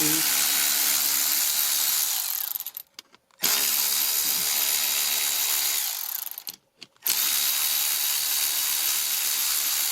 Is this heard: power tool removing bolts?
yes